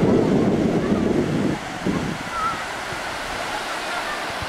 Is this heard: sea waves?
yes